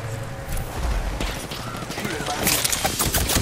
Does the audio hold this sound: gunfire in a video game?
yes